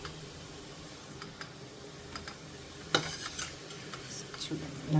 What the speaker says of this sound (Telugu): గారెలు పెసర గారెలు చూసారు ఎంత చక్కగా వేగాయో